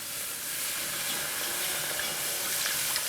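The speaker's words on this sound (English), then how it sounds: "When the roux is all nice and bubbly, just going to add the milk in." Milk poured into a bubbling roux in a pan on the stove, giving a steady close sizzle and hiss with soft steam that holds evenly throughout, no voices present.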